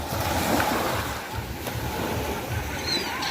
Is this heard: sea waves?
yes